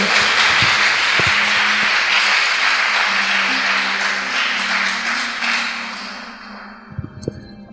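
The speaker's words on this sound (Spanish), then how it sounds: "Aplauda al Rey." A church conference crowd applauds loudly and continuously, a dense wash of clapping that gradually fades out, with a few louder taps near the end.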